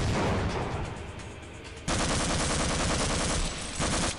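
Loud, rapid bursts of gunfire in the video game Half-Life, dense automatic shots hammering without pause, with a sharp jump in intensity midway and no speech over them.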